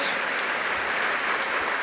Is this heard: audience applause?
yes